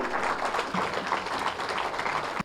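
An indoor audience at a seminar applauds as a speaker is welcomed to the stage, a dense, steady round of clapping at moderate volume that stops abruptly at the end.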